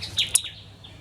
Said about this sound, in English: Oh, there's those birds again. Oh, they're flittering.